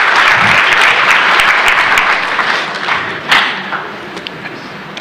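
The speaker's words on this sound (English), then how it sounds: "Another warm round of applause," Sustained audience applause for panelists at a live book launch, a dense crowd clapping that stays loud for several seconds and then thins out into a few scattered claps near the end.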